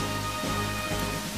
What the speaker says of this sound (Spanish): Y llovía.